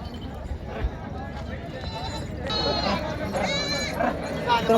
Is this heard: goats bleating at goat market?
yes